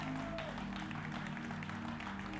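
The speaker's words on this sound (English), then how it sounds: "Clap for our partners." Steady, dense applause from a church congregation welcoming new partners during a service, filling the space evenly for its whole length, with a faint voice underneath.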